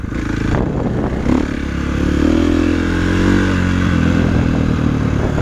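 Loud, steady engine noise from a KTM 450 SXF motocross bike, with a few light clattering knocks early on and a slight rise in revs midway.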